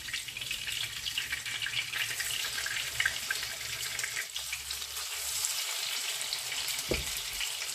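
Minced meat and young cabbage patties fry in a pan with a constant close sizzle and hiss that holds steady throughout, marked by a few soft pops and clinks.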